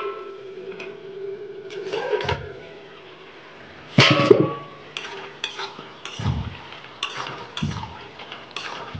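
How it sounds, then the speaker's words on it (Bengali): A lid comes off a pot of boiling potatoes with one sharp metallic clank, amid quieter kitchen clicks and light taps before and after. "ঢাকাটা খুলবো"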